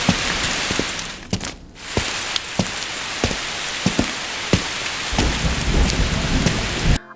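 Heavy rain pours steadily over a cartoon scene while repeated sharp thunder cracks break through, one every second or so, loud and close throughout.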